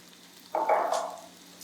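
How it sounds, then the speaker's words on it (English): Canned whole tomatoes and tomato sauce are poured into a pan of browned hamburger for spaghetti meat sauce, setting off a sudden sizzling splash that fades over about a second, with no talk. "So just putting in the can of tomato and the sauce."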